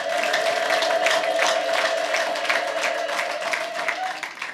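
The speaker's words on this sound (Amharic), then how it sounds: "እልልታችሁን አሰሙት።" A church congregation at a prophet's service ululates together in a sustained, high, wavering trill with crowd noise and clapping mixed in, loud and continuous for several seconds.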